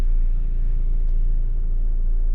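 Steady low diesel idle of a Jeep Commander Overland 2.2 diesel as it reverses slowly during automatic self-parking, a constant close rumble with no talk.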